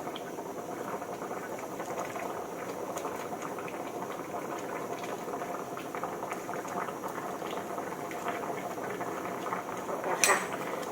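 Thai tilapia curry with spring onion simmers in a pot, a steady close bubbling that continues without a break, with one brief clink near the end and no speech.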